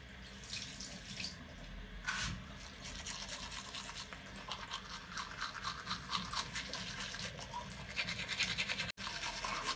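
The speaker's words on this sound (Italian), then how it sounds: "io faccio prima una bella lavata di denti col mio spazzolino" A toothbrush with toothpaste scrubs teeth steadily beside a running tap, with splashing water in a sink, close and continuous, no talking.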